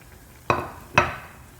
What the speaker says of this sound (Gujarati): જ્યારે આપણે સર્વિંગ બાઉલમાં લઈએ ત્યારે આવશે એનો અવાજ